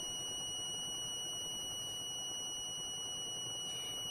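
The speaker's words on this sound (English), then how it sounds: "they can just click on C button for a loud beep sound" A steady, high-pitched electronic buzzer tone from a smart keychain sounds continuously without a break, fairly faint over a low background hiss.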